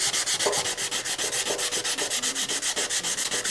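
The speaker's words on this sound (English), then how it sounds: "I just wanted to get a little piece of sandpaper just to see if I can take off some of this." Small piece of sandpaper rubbed by hand over a metal Honda CL90 gas tank, a quick steady rhythm of rasping back-and-forth strokes, close and loud with no voices.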